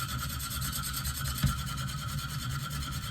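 A Benchmade Steep Country knife blade is worked on a coarse 100 or 50 grit KME stone, giving a steady rhythmic rasping scrape close by with one brief sharper stroke midway, and no one speaking.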